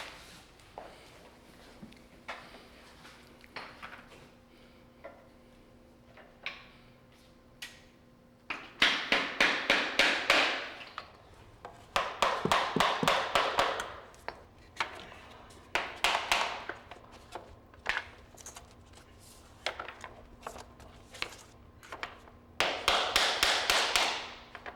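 Click-together floorboards are laid during a Victorian house restoration, with clusters of rapid tapping and knocking as boards are set and tapped into place, separated by quieter stretches.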